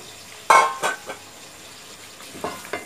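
Chunks of bottle gourd tipped into a hot pan for a fish curry, giving a sudden loud sizzle and clatter followed by shorter stirring scrapes and softer frying bursts.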